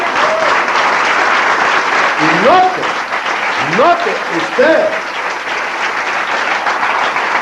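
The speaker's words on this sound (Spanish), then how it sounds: "Damos un aplauso al Señor." A church congregation breaks into sustained applause, a loud, continuous wash of many hands, while a voice speaks over it with rising, sung-like inflections.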